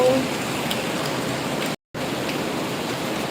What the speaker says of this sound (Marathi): आत्ता चालू आहे जास्त होय पाऊस येतोय